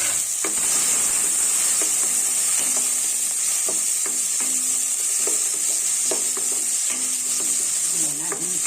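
Potato, capsicum, tomato and green chilli frying in a pan for mixed vegetable semiya upma, a continuous close sizzle with repeated light scrapes and taps of a stirring spoon, no voices.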